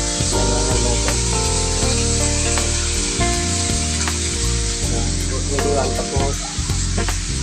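Fish frying in a pan, with a loud, dense sizzle and crackle going on continuously, plus occasional scraping and clatter from the pan and a brief bit of speech over it.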